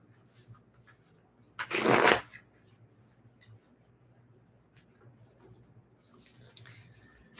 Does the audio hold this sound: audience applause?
no